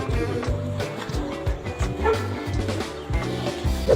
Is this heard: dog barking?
yes